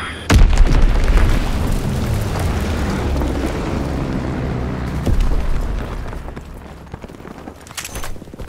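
An Azon bomb detonates in the World War II shooter Call of Duty: WWII, opening with a loud, deep boom that rolls into sustained rumbling, followed by further distant blasts and scattered pops.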